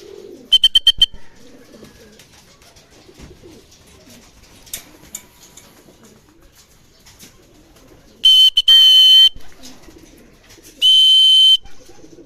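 Racing pigeons coo softly in the background during training in Talavera, Nueva Ecija, Philippines, interrupted by a few loud, sharp electronic beeps that burst out in short blocks.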